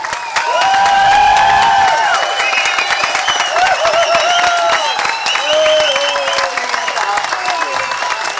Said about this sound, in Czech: Soutěžní aplaus